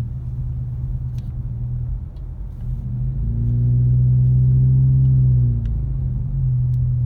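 A car drives through a snowy village near Big Bear Lake, California, its engine a steady close rumble that swells into a smooth, louder hum midway before settling back down.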